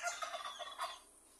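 A turkey gobbles in a rapid, warbling burst, then a second shorter gobble follows, fairly clear and close with no talking.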